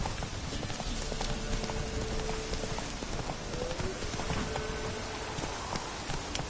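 Horse hooves clip-clop steadily and close, in a brisk repeating rhythm over a constant wash of rain-like background noise, with no talking.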